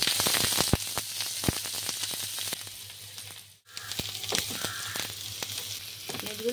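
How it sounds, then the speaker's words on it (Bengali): Two medium chopped onions fry in oil tempered with whole cumin for Bengali egg curry: a dense, crackling sizzle with sharp pops, briefly dropping out midway before resuming loud and close. "2 মিডিয়াম সাইজ পেঁয়াজ কুচি দিয়ে দিচ্ছি।"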